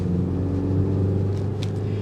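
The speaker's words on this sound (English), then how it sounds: "The exhaust note will filter in," A 2025 Mini Countryman S All4 exhaust note while driving, a steady low droning rumble with faint road noise, continuous and moderately loud throughout.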